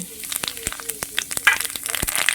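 Bay leaf and black cumin seeds crackle in hot oil while tempering for a prawn and Malabar spinach curry, with a steady sizzle broken by frequent sharp, close pops.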